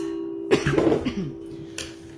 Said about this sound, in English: Hang on, I gotta clear my throat.